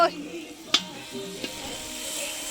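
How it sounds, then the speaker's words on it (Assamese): Pork frying in a pan with a steady, close hiss of sizzling oil and a couple of sharp clinks of a utensil stirring against the pan. "এয়া গাহৰি ভাজি"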